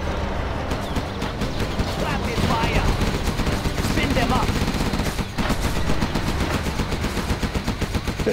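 A Gatling tank's spinning-barrel machine gun fires in Command & Conquer: Zero Hour, a continuous rapid rattle of gunfire that runs the whole stretch, loud and dense, with other game sounds mixed in.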